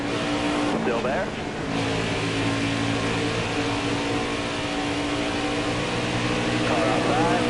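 A race car in a PS4 racing game drones loudly as it runs alongside, engine whine steady and close with small shifts in pitch, while a voice talks over it.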